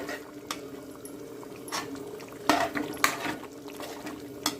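Chicken curry being stirred in a pot on the stove, soft wet scraping and clinks of a utensil against metal, with a few sharper knocks, close and fairly quiet, no talking.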